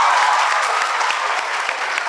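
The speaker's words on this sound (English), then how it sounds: "Give them a round of applause." Steady, loud applause from a large crowd at a high school debate competition, continuous clapping filling the whole moment without voices.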